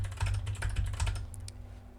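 Fast, close keystrokes clatter on a computer keyboard in a short burst, then thin out and stop.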